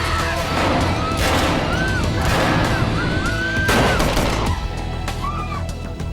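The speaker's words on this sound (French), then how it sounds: "Dans le cockpit, Rezac entend les coups de feu." Gunfire aboard a hijacked Boeing 737 in a dramatized reenactment, with several sharp, loud shots and crashes in quick bursts over a tense, rumbling background.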